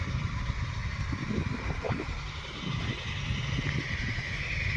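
A tractor engine runs at a steady mid-pitched drone with some rattling clatter, moderately near and continuous throughout with no talk.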